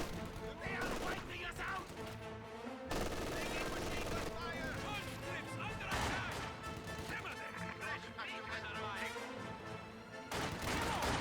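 Rapid bursts of MG42 machine gun fire crackle through a Company of Heroes 2 battle, layered with other gunfire, explosions and crashes, loud and dense throughout.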